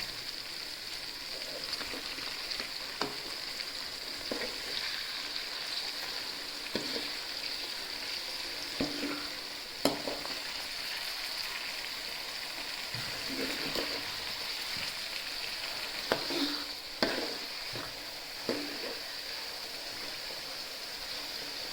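Chicken liver fry hissing steadily in a pan as it is stirred, with intermittent scrapes and knocks of the spoon against the pan, close and fairly quiet, continuous throughout.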